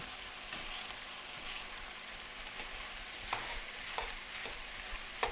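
Chicken cubes for curry chicken fry on high heat in a pan, a steady close sizzle broken by several sharp scraping stirs toward the end, no voices.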